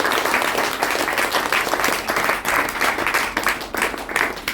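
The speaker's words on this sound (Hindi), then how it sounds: "तो हम सभी दोबारा से जोरदार तालियों के साथ" Loud, sustained applause from an audience at a spiritual talk, a dense wash of many hands clapping steadily for several seconds with slight swells, and no voices over it.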